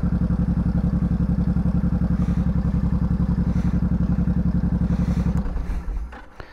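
A motorcycle engine idling with a fast, even, thumping pulse, close and loud, that abruptly falters and dies out as it stalls near the end.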